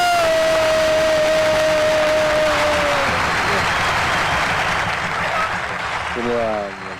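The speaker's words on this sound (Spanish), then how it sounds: "un beso, un aplauso, un cariño para el señor Julio Talavera." Dense, loud audience applause runs through the whole span, with a sustained tone and voices ringing over the clapping.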